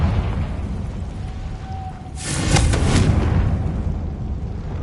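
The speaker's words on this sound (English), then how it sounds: "Confringo!" A Confringo explosion spell cast in the Hogwarts Legacy video game bursts out as a loud, broad whooshing blast lasting about a second, after a brief tonal hum, with a rumbling tail that stays steady afterward.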